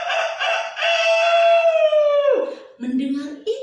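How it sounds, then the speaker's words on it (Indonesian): A rooster crows once in a long, loud drawn-out call that falls in pitch at the end, followed by a shorter, lower trailing note. "Ayam jantan pun terkecoh dan mulai berkokok."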